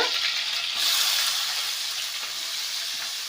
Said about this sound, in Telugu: ఇదిగోండి ఆనియన్స్ వేగడానికి